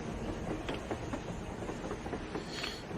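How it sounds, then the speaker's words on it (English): A train running on the surface in the video game Metro Exodus, a steady rumbling roll with faint rhythmic clicks of wheels over rail joints, moderately distant and continuous, with no voices. "A train! A damn train on the surface!"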